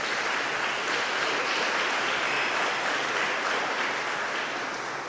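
A church congregation applauds during a sermon, a dense, continuous wash of clapping from many hands that holds steady throughout at a moderate level.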